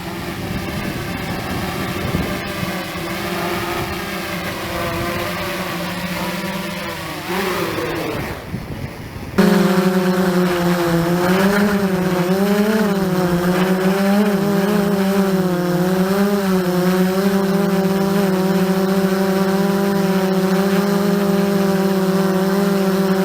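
A Traxxas Aton drone flies in to land on a landing pad in gusty wind, its steady high propeller whine loud and close, wavering in pitch, briefly dipping before jumping back to a strong buzz.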